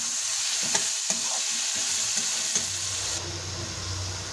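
Spices with salt and turmeric sizzle loudly in a hot pan for palak paneer, with steady frying hiss and occasional sharp clinks of a spoon stirring against the pan.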